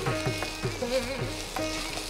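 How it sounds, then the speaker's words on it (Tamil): Sorrel leaves sautéing with tomatoes in a pan, a continuous frying sizzle with a regular rhythm of stirring strokes, close by. "புளிச்சக்கீரை போட்டு நல்லா வதக்கிக்கலாம்."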